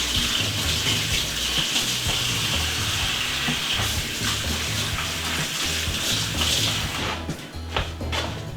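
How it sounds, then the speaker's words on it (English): Tap water runs steadily into a kitchen sink while hands are washed after handling a knife, a close, continuous gushing hiss with slight splashing changes toward the end and no speech. "Get the knife, set it in the sink, wash my hands."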